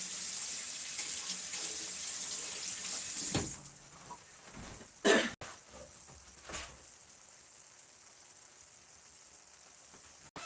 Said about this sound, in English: I always rinse it off because you don't know what's on there, right?